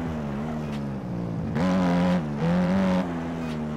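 A Twister motorcycle engine in MX Bikes drones steadily, then revs up in two strong surges as it climbs through gears, pitch rising and falling with each throttle push, heard close and alone.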